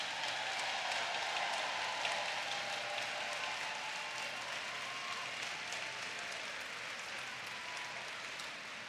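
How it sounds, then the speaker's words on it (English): Audience applause at the awards ceremony of the 2023 International Chorus Competition in Louisville, Kentucky: sustained, even clapping from a large crowd, fading slightly toward the end. "Let's give them a round of applause."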